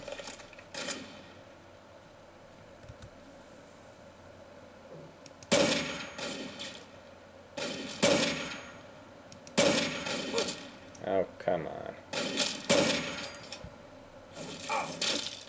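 Bursts of gunfire in Fallout 3 come in several loud clusters of rapid shots, separated by quieter stretches of ambient game noise.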